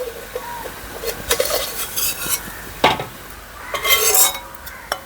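Fenugreek seeds being fried in oil in a pan for bitter gourd pickle, with stirring scrapes, light sizzling and a few utensil clinks in short irregular bursts, close by and fairly loud.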